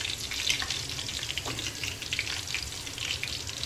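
Pieces of boneless chicken fry in hot oil with a constant, hissing sizzle and occasional louder crackles and spits, heard up close with no talk.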